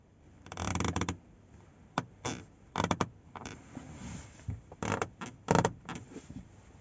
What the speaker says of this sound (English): If you lean on them, you get a really creaky noise